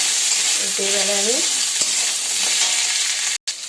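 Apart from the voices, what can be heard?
potatoes frying and being stirred in a pan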